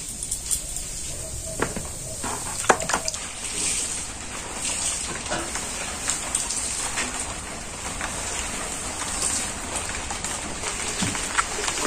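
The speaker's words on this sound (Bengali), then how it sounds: "বৃষ্টি শুরু হয়ে গেল, এখন আবার বৃষ্টি শুরু হয়েছে।" Rain falls steadily in a continuous hiss with scattered patters and drips, and no voices are heard.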